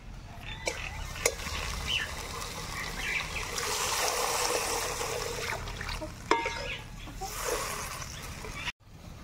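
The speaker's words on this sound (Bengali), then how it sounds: "এবার জল দিয়ে দেবো।" Water pours and trickles into a pan of fish curry masala in a village kitchen, a soft steady splashing with a few light clinks of utensils.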